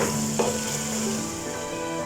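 Potatoes and turmeric powder are stirred in a hot pan, with a steady sizzle of frying throughout and a faint scrape of the spoon.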